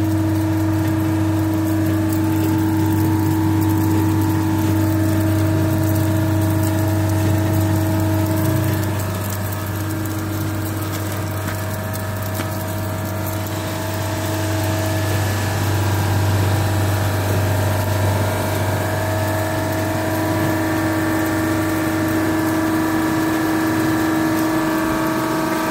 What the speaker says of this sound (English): Look around of the ice machine.